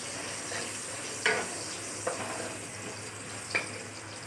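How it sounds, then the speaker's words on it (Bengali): Potatoes, salted and dusted with turmeric, frying in hot oil for a Bengali boal fish curry; a low steady sizzle runs throughout with a few brief utensil clinks and stirring scrapes, no voices. "এবার আমি আলুটা ভেজে নেব"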